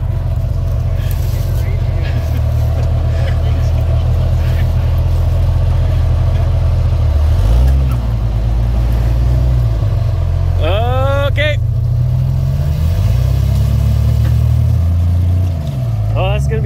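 Off-road vehicle engine droning and revving steadily while towing another rig with a long kinetic recovery rope, a heavy low rumble throughout with a rise in pitch near the end and voices talking over it.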